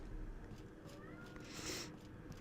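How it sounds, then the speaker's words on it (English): A pet cat meows indoors, a couple of moderately loud calls over a steady background hum, with no talking. "Cat's meowing again."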